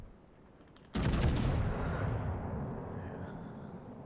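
Heavy naval guns of the battlecruiser Derfflinger fire in World of Warships, a sudden loud booming salvo that rolls into a long, slowly decaying rumble.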